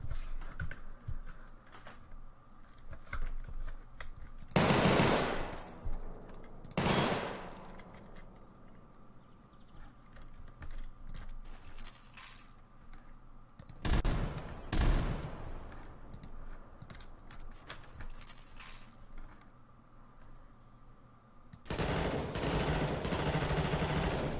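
Rifle gunfire in Garry's Mod, heard as several loud bursts of rapid shots separated by quieter stretches of faint clicking, with a final sustained burst at the end.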